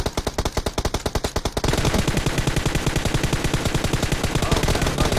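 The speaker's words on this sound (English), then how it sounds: "Shoot, shoot, shoot, shoot, shoot. As much as you can." Rapid machine gun fire blasting at supply crates in PUBG, loud and close, with evenly spaced bursts that tighten into a continuous dense stream of shots with no voices.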